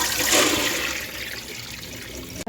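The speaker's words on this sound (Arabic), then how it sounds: "نصفيو العيش في الكسكاس" Boiled Algerian aish pasta drained into a couscoussier, a loud rushing pour of water that gradually thins toward a trickle, with no voices.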